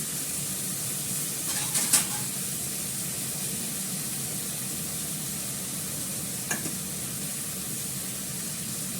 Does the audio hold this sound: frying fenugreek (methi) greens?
yes